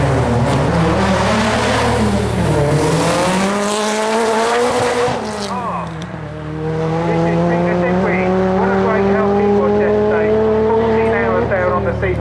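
A blue Renault car races past at the Brighton Speed Trials, its engine screaming loud and close as it rises and falls in pitch, with a brief tire squeal. Speech runs over the engine noise.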